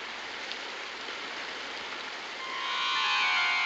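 Rain falls steadily as a soft even hiss, with a brighter sustained noise rising toward the end and no voices.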